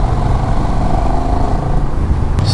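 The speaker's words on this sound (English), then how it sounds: "We're gonna see how the engine keeps up at highway speed." Honda Rebel 1100 DCT motorcycle engine running steadily while riding, a loud continuous drone close to the microphone with wind rush.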